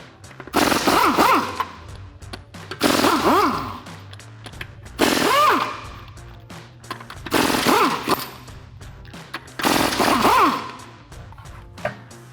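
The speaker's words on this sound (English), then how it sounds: "Our factory lug nuts here are 22mm, so I got my impact gun" A pneumatic impact gun spins 22mm factory lug nuts off the wheels of a 2008-2023 Dodge Challenger: five close, loud rattling bursts of about a second each, their whine rising and falling, separated by short pauses.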